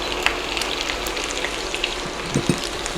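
Potatoes frying in a pan turned up to high heat for Georgian odjakhuri, a steady close sizzle and crackle with a few brief clicks of stirring near the end.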